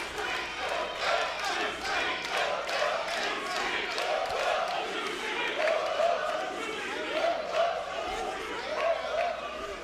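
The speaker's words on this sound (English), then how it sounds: "Sold out crowd making their way inside the MJN Center here in Poughkeepsie, and they are rowdy." Rowdy sold-out wrestling crowd filling the MJN Center arena in Poughkeepsie, a dense roar of chatter, shouts and cheers swelling and fading throughout, loud and continuous.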